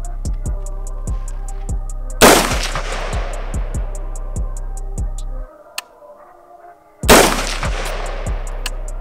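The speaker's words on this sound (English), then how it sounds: "I'm probably gonna shoot 2 and then not shoot 1 and then do a 3 round burst" Pistol shots from a Springfield Hellcat or Sig P365 at an outdoor shooting session: two loud, sharp reports several seconds apart, each with a long decaying tail, over a steady ticking background.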